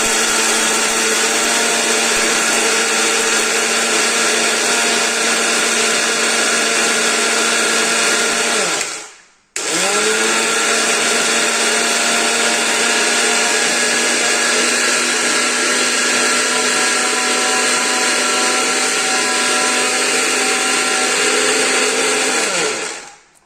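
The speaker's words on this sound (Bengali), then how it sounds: "মিক্সিতে হচ্ছে মশলাটা ব্লেন্ড করে" A kitchen mixer grinder blends spice mix for homemade mango pickle, a loud steady whirring motor running for about nine seconds, pausing briefly, then whirring again until it stops.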